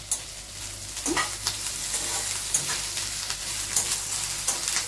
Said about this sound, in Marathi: भेंडी चांगली परतून घेऊ आणि भेंडी परतताना गॅस मोठा करायचा।